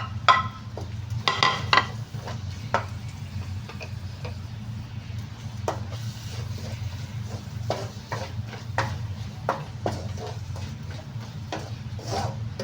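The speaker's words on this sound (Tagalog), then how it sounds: "igigisa ko lang naman ito para lumabas lang yung aroma ng ating mga spice" Ginger and garlic sautéing in a pan for butter shrimp: a steady low hum of cooking with a soft sizzle, broken by irregular clicks and taps of stirring, close and moderate in level.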